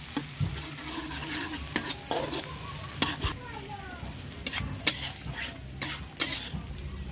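Garlic and onion sauté in a pan for kare kare, with a soft steady sizzle broken by repeated sharp scrapes and clinks of a spatula stirring.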